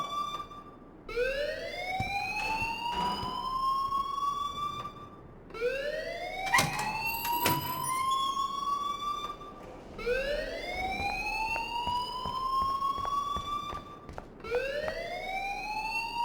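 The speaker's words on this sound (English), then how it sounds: "please turn off that alarm since that's your job" A rising and falling electronic alarm in the video game Life is Strange, loud and close, sweeping upward in repeated long cycles about every four seconds.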